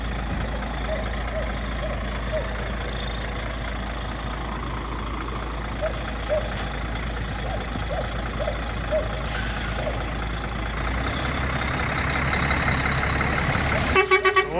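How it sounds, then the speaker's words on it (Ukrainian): A DAF 105 truck engine idles with a steady low rumble, nearby and constant, rising slightly toward the end with a few clattering knocks. "Отака, друзяки, машинка, DAF 105."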